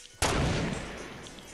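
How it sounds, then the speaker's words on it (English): One sharp, loud gunshot in the Fortnite video game, followed by a long, gradually fading reverberant tail. "There's another guy shooting."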